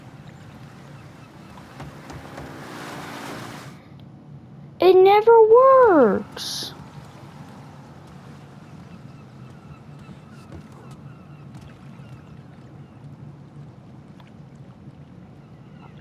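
Steady low engine drone of a boat on water in a video game, broken midway by a short burst of louder tonal noise, with a person speaking briefly.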